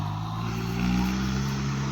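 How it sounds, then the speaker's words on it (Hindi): A farm tractor approaching in a village, its engine a steady low drone that swells slightly as it nears, heard alone without talk. "ये हमारा ट्रैक्टर आ रहा है"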